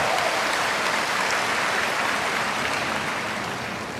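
Dense applause fills the whole stretch, a steady broadband clatter of many hands clapping, slightly fading toward the end.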